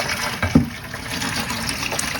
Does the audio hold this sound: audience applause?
no